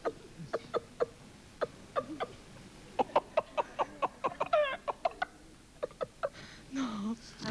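A voice imitates a clucking hen and crowing rooster, a string of short, sharp clucks and squawks with a rising crow-like call near the end, close and fairly loud in a quiet room.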